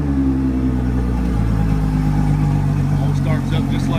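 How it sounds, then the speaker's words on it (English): A motor vehicle engine runs loud and close with a steady low rumble and a slight rise in revs near the end, as someone talks over it. "Let's fire this motor up."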